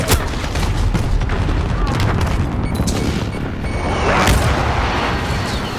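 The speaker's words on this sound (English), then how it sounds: "Precision airstrike" Explosions from a precision airstrike in a video game rumble in a dense, loud barrage of booms and crackling blasts, with a brief voice speaking over the din.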